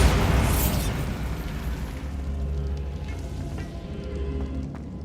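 A Bombarda spell going off in the video game Hogwarts Legacy, a loud booming blast with a deep rumbling tail that fades slowly, followed by lingering crackling debris.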